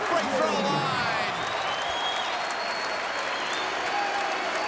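A basketball crowd at Providence College versus Creighton breaks into loud, sustained applause and cheering after a made basket, a dense roar of clapping filling the whole stretch.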